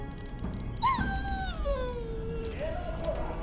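A dog in the Dragon Age: Origins game whines in a long, drawn-out falling whimper that rises again near the end, close and clear over a low background hum.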